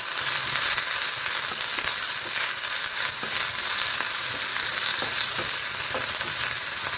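Neem leaves and brinjal frying in oil, a loud, dense, continuous crackling sizzle with faint spatters throughout, close up and steady with no pauses.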